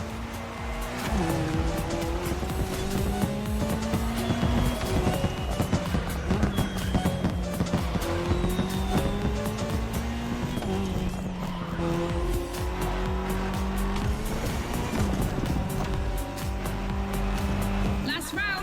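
Rally cars race in The Crew Motorfest, including an Audi S1 EKS RX Quattro and a Ford Puma Hybrid Rally 1, with loud, continuous engine revs rising and falling through gear changes and tire squeals, under a commentator's voice.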